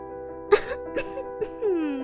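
A voice imitates a few forced coughs, short bursts spaced out over background music with a sustained tone.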